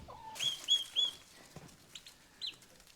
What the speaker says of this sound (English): we do have a few turkeys in here in the brooder